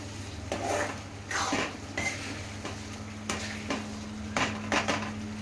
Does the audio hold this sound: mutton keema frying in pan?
yes